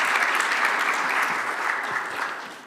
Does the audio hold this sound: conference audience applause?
yes